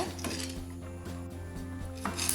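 Coffee beans dry-roasting in a pan for sukku malli coffee, stirred until golden brown: scraping and light clinks of a utensil against the pan over a steady low hum, with no talk.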